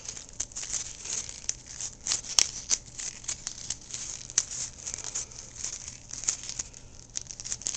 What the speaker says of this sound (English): Take off a piece. And just tape it on.